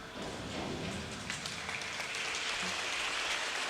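A crowd at a girls' high school swim and dive meet applauds a dive, a steady wash of clapping that holds evenly for several seconds, moderately loud and without a break.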